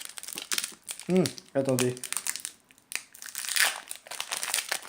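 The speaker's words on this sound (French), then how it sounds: "Alors, nous ouvrons le premier paquet." A packet of trading cards being opened: crinkling, crumpling wrapper noises come in bursts at close range, mixed with someone speaking French.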